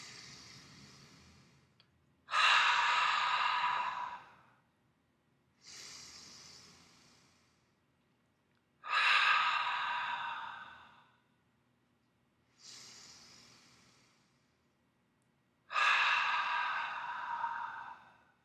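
Three slow, deep breaths in a guided group breathing exercise, each a long airy inhale then a fuller exhale, evenly paced with quiet pauses between, close and clear with no talking.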